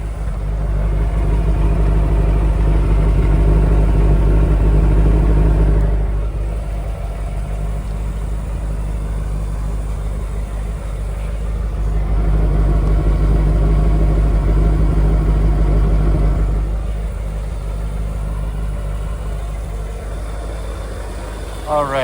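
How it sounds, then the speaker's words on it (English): A car engine idles steadily with a low, continuous rumble, swelling slightly louder at moments, heard close up with no talking. "let that engine run for a moment more"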